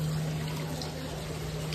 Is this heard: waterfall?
yes